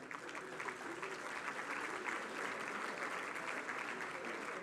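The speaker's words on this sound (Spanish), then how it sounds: "Fuerte el aplauso." Audience applause at an annual economic freedom dinner gala, a dense, even roar of many hands clapping that holds steady throughout, heard from some distance with no voices standing out.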